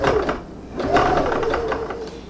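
A sewing machine stitches the finishing seam on a handmade custom bag, a close, steady mechanical whirring broken into a few short runs with brief pauses between them.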